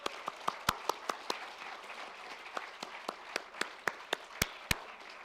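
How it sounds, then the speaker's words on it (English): Sparse, sharp claps at a virtual graduation celebration for a chemical engineering school, individual hand claps spaced irregularly and fairly quiet over a faint background hiss rather than a full crowd ovation. "So please, the graduates, give them a big round of applause."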